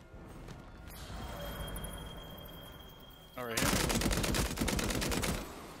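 Shotgun fire in the Bloodhunt video game, a dense rapid burst of loud blasts arriving suddenly after quieter game ambience and continuing for about two seconds before fading.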